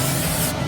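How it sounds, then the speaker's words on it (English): Grill spray hisses in a short, steady burst onto the grates of a Masterbuilt gravity smoker, close and loud, stopping abruptly. "We're gonna take our grill spray it on the grills right here on the grates"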